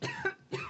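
A person gives two quick, close, dry coughs separated by a brief pause.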